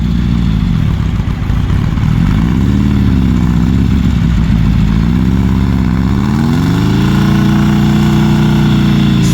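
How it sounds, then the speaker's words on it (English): Heavy diesel engine from a Dodge semi truck drones loudly and steadily at low pitch, its note rising and swelling now and then as the wheels spin in a rut, with no talk over it. "Spinning out right into your old rut."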